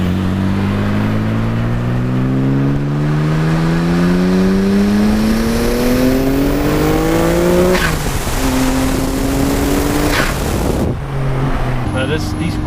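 Loud Nissan Skyline R34 GT-R V-Spec II engine revving up through the gears, the exhaust note rising in pitch, dropping at each shift, then a sharp throttle blip, close by.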